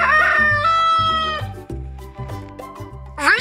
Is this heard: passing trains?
no